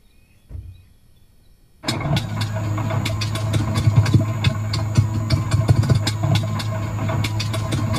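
A primed small aircraft piston engine with the throttle cracked starts after a quiet pause, then settles into a loud, steady, rumbling run close by that fills the rest of the clip.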